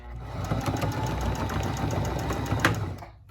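A home sewing machine stitching fabric for small pockets, running steadily for about three seconds with a fast even mechanical whir close by, then winding down.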